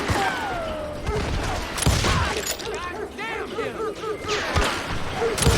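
Gunfire in the Western game Call of Juarez Gunslinger: repeated shots crack in a busy firefight, mixed with whooshes, clatter and shouted voices.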